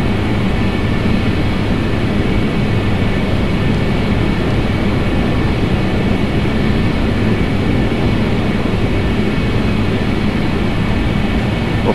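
Concorde jet engines running before takeoff in Microsoft Flight Simulator X, a loud, continuous, broadband roar with no change for the whole stretch.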